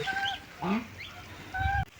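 Several short honking quacks from five or six ducks close by at a 600-year-old palace garden in Junnar, a few calls spaced out against quiet background.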